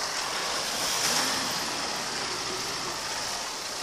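A car drives over a rough road, a steady engine hum mixed with broadband road and rattling noise at moderate loudness, with one slightly louder bump near the middle.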